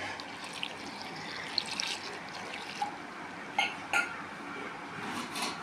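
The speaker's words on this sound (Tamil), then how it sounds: "தேவையான தண்ணி ஊற்றிங்கம்மா." Water poured into a cooking pot of food seasoned with tamarind and salt, a continuous low trickle with a few sharp clinks of metal utensils and pots.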